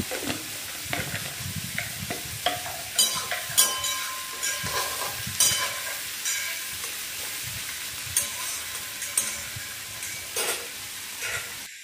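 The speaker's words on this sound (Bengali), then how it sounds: "পেঁয়াজটা ভাজা হোক" Onions fry and sizzle in a pan as a spatula stirs them, a steady crackling hiss broken by frequent scraping and clinking strokes, close and continuous.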